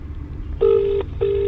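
Ringback tone of an outgoing phone call: two steady electronic ring bursts, the second starting after a short gap, loud and clear over a quiet background.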